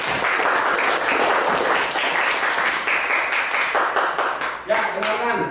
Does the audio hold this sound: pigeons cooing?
no